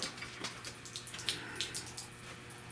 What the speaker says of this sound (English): I'm gonna pour a little water on there